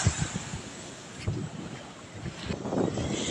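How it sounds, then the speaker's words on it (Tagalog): Strong wind gusting across an island shoreline with surf nearby, a steady broadband rush with low buffeting bursts on the microphone, louder toward the end. "Medyo malakas yung hangin, kaya yan, maraming washout na tambalang dito sa amin."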